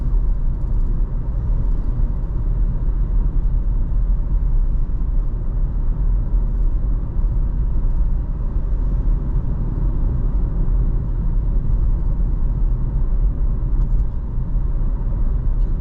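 A car drives through the streets of Hua Hin, Thailand, with a steady, loud road and engine rumble that continues without a break and no voices over it.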